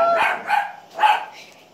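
A dog barks nearby, three loud sharp barks spaced unevenly, followed by a softer yip, close and clear in an indoor setting.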